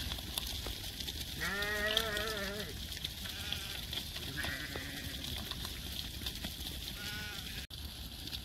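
Ewes in an outdoor flock of about 1,000 sheep let out several wavering bleats at a moderate distance, spaced apart over a constant background hiss.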